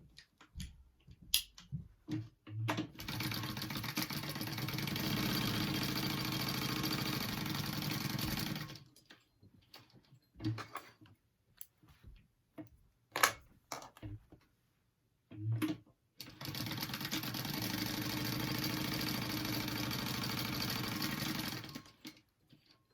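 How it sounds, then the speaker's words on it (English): A sewing machine top stitches a clutch wallet in two long, steady runs of rapid mechanical whirring, separated by quieter stretches of short clicks and handling noises. "now you're just gonna top stitch along where we just sewed it together"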